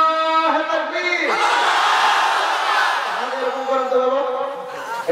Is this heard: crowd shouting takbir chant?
yes